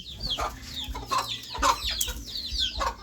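Chickens clucking at close range, a run of short, repeated calls with varied pitch and no voices.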